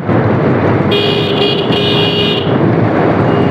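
Car horns honking in a traffic jam, a loud sustained blare lasting about a second and a half over a steady roadside traffic rumble close by.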